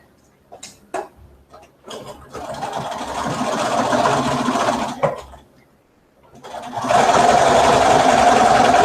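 A sewing machine stitches a French seam in knit fabric in loud bursts of running separated by pauses, with a person talking in the gaps between runs.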